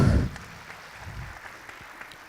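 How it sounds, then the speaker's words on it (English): Audience at a live memorial tribute event gives a brief burst of applause that fades quickly into scattered faint claps and room noise. "Another round of applause, please."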